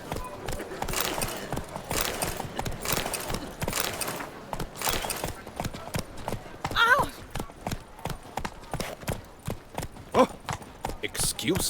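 A horse gallops in The Witcher 3: Wild Hunt – Blood and Wine, its hooves pounding in a fast, steady rhythm close by while a voice speaks intermittently over the hoofbeats.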